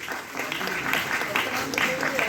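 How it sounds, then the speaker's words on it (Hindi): An audience claps steadily at a book launch event in Haryana, with continuous dense applause throughout. "जोरदार तालियों के साथ"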